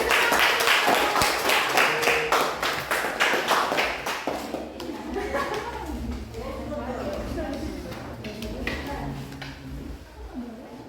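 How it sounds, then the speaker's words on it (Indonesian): A classroom audience claps for a group about to present, a burst of quick, rhythmic hand claps in the first few seconds that fades as voices and talking take over. "Tepuk tangan dulu"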